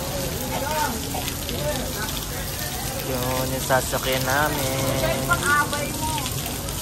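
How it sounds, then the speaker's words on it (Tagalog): Steady rain pours down on an outdoor spot on Boracay, a dense even hiss throughout, while people talk over it nearby. "inabot na kami ng ulan dito"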